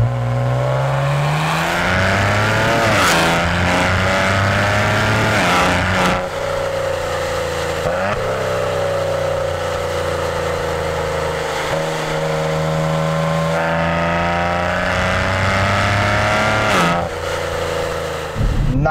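A Maserati Ghibli accelerates hard on an open stretch of road, and its exhaust note climbs in pitch through several gear changes. The engine sound is loud, rich and continuous throughout.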